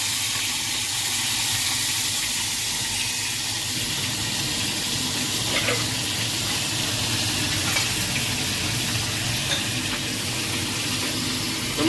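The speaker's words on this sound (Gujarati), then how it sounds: "ટમેટાને ફ્રાય કરીશ." Tomatoes fry in a pan without tempering for a Punjabi sabji gravy, giving a steady, close, continuous sizzle and hiss with no talk.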